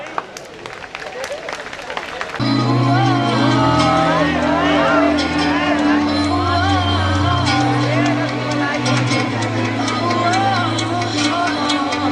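An audience at a college techno-cultural fest gives a couple of seconds of scattered clapping, which is then swallowed by loud music with singing that carries on to the end.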